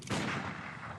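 Gunshot fired in the video game Bloodborne: a single sharp, loud report that keeps ringing and decaying through the rest of the second, with no talk over it.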